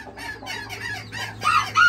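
Old English Game and Azteca bantam cross chickens cluck and chatter up close, several short calls overlapping in a steady run that grows louder near the end, with no talking.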